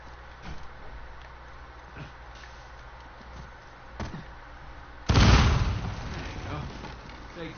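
A loud explosion blows a door open in a video game, a sudden heavy blast that rolls on for a couple of seconds after a stretch of quieter ambient sound with a few faint thumps.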